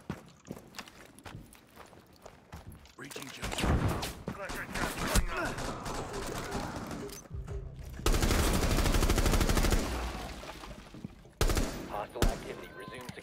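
Bursts of gunfire from a tactical shooter video game, with rapid volleys and single shots coming in clusters over busy background noise, loudest in a dense stretch near the end, under faint talk.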